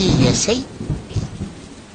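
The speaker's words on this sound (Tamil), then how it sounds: "என்னது இது இப்பயும் மழை பெய்யுது?" Heavy rain pours down steadily while a deep thunder rumble rolls through at the start and then fades under the hiss of falling water.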